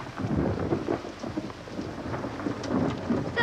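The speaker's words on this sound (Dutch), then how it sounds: "Ik vind het trouwens fijn als het bliksemt en dondert." Thunderstorm with heavy rain, a dense steady downpour with low rumbling thunder rolling underneath, loud and continuous with no voices.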